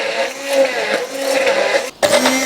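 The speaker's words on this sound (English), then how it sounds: "Now immersion blender goes in, and we blend it to a nice sauce-like consistency." An immersion blender whirs steadily through butter chicken sauce, a loud, close motor drone with a brief cut-out and restart near the end.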